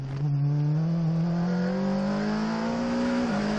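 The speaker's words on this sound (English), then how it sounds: "Coming down 6th gear on the limiter, down to 2nd." A race car on the Barcelona circuit coming down from sixth gear at the rev limiter, heard as a loud, close, continuous engine howl whose pitch climbs steadily and then dips sharply near the end.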